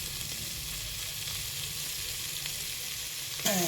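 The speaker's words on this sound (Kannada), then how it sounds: "ಅರಸಿನ ಸೊಪ್ಪು, ಪುದೀನ, ಸಾಂಬಾರು ಸೊಪ್ಪು 3 ಒಗ್ಗರಣೆಗೆ ಹಾಕ್ಬೇಕು." Turmeric leaves, mint and sambar herbs hit a hot onion tempering for an avarekalu pulao, giving a loud, steady hiss of frying that swells briefly near the end.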